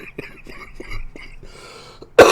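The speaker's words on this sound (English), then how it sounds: "every time I cough, turning as far away from the mic and leaning back as possible" Someone coughs and clears their throat in a series of short, rhythmic bursts, then one sharp loud cough at the end, close by.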